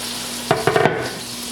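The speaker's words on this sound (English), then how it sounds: "I can smell that this Italian sausage is cooking." Italian sausage fries in a pan with a soft background sizzle and a brief cluster of spatula scrapes and taps over about half a second.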